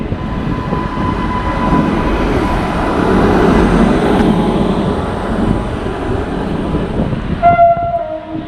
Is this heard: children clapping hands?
no